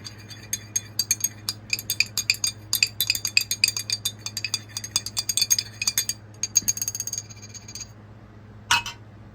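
A utensil stirs percolated herb liquid in a glass container, giving rapid, close clinking taps in quick irregular bursts that thin out and end with a final knock against a steady low hum.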